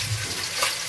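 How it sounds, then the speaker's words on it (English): Chicken deep frying in too much oil in a pan, a dense, loud, continuous hiss and crackle heard up close for about a second. "chicken sounds like it's deep frying"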